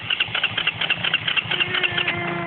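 A quad bike engine idles close by with a steady, rapid puttering beat and a slight rattle, running alone without throttle.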